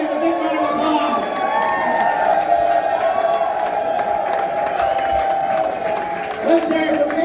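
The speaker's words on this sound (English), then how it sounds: "Let's give a big round of applause." A rally crowd at an outdoor aviation venue cheers and applauds, a loud sustained roar of claps, whoops and shouts, with a voice over a loudspeaker carrying through on top.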